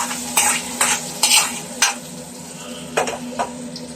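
Mango curry being stirred in a pan after a hot tempering is poured in, a soft sizzle broken by several bright spoon scrapes and clinks against the pan, close up, no talking.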